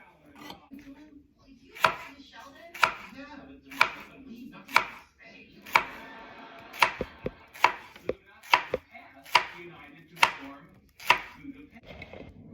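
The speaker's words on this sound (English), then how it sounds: "Now we take the onion and we cut it very good, very nice." A knife chops an onion on a cutting board with about a dozen sharp, evenly spaced strokes roughly a second apart, close and crisp over quiet kitchen background.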